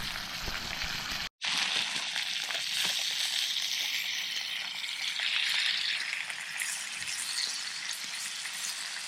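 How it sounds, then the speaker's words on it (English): Steady, crackling sizzle of brook trout frying in a hot pan outdoors, close and continuous, with a brief cut near the start. "Got this little sucker frying away."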